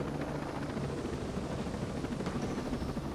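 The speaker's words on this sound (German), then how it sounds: "Komm, ich geh mal da zum Heli." A helicopter in the video game Ghost Recon Breakpoint makes a steady, continuous rotor and engine drone, close and constant for the whole stretch.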